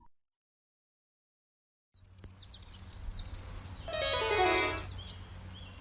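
Cartoon bird chirping in an animated Hindi fairy-tale, a run of bright, rapid tweets that starts after a moment of silence, then swells into a louder trilling phrase over a soft background bed, with no voices.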